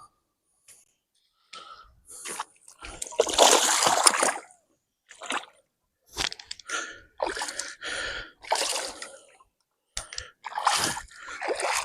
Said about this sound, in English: This guy is splashing quite a lot